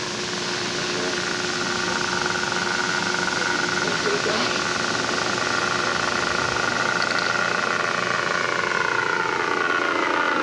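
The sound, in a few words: model airplane slow flyby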